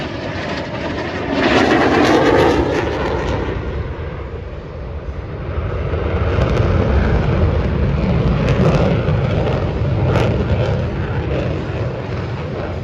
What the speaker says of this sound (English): Lieutenant Commander Stengel is approaching to demonstrate the maximum performance turn rate of the F-18.